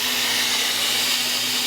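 A blender whirring through keto coffee with MCT oil, a loud, continuous high-pitched motor whine and frothy rush, steady and close until it cuts off at the end.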